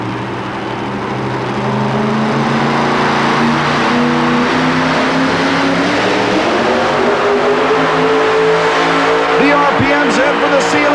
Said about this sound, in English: Let's see if the original 600 cubic inch Ford can do the same.